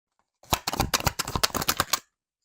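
Tarot cards are shuffled close by in a quick burst of crisp flicking and tapping that lasts under two seconds, then silence.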